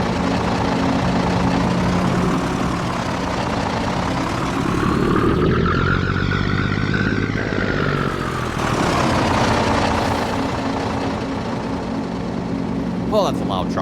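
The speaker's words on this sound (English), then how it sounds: "Well, that's a loud truck." Loud truck engine in Farming Simulator 22, a steady droning rumble that rises and swells mid-clip, continuous throughout with a speaking voice over it.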